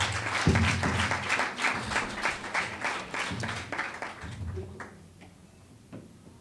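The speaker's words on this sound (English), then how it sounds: "Give yourselves a big round of applause." A crowd applauds with a dense patter of clapping that thins out and fades to a few scattered claps at the end.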